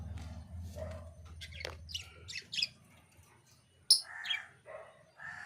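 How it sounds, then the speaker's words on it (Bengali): Budgerigar chicks chirp in a cage, with scattered short, high tweets and squawks that come and go in bursts over a low hum and some soft rustling. "এই যে পাখিগুলো দেখলেন, ওরই সব বাচ্চা"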